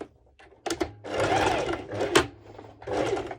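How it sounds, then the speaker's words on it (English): A sewing machine stitches fabric and an underwire channel for a bikini top with ruched sides, running in several short bursts of rapid mechanical whirring separated by brief pauses, close and clear. "I'm going to place it like that over my fabric, and I'm sewing"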